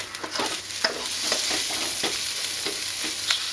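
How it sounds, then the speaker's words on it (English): Steady sizzling of Thai green curry paste frying in a hot pan, with occasional stirring scrapes and small pops. "Just fry that off a little bit."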